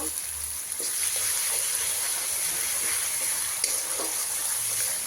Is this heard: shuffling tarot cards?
no